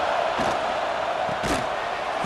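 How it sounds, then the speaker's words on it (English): Stadium crowd in EA Sports College Football 26, a dense, steady roar filling the space with a couple of swelling surges, no clear voices standing out. "listen to this crowd noise. This stadium is vibrating."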